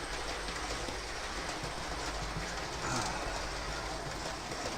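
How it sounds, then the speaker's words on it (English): A train rolls past outside, a steady broad rumble with faint wheel clatter held at an even level throughout, heard from indoors at a distance. "See the train? You get the train on there."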